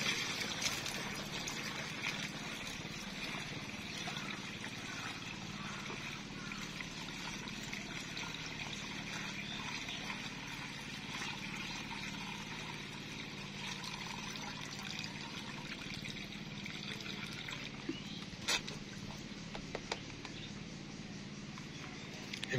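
Pesticide is stirred into water in a 16 litre jar, giving a steady, close sloshing and trickling liquid wash that runs continuously at moderate level, with a few small knocks near the end.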